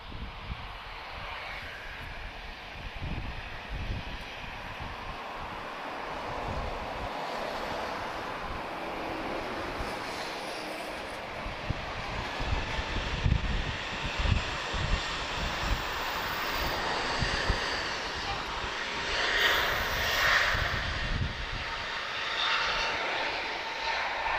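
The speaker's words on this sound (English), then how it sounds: "Let's pray for a full runway departure. I want to give you a nice close-up of a" A Boeing 767-200 jet takes off at Lisbon Airport, its engines a broad, rising roar that swells and stays loud through the departure roll, heard from a distance.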